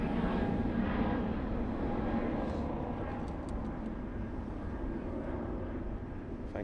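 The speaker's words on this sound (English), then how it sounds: "With the A320neo." An Airbus A320neo airliner at London Southend Airport gives off a steady, broad jet engine roar that stays loud and even throughout, heard at a distance with no talking.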